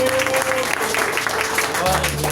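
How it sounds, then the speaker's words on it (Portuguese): Congregation clapping in praise during a Pentecostal church service, a brisk wash of applause mixed with voices and sustained instrument tones, loud and close. "As palmas louvam e exaltam ao Senhor Jesus."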